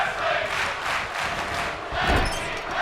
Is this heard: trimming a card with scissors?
no